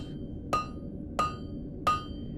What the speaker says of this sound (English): first I'm going to hammer the end on it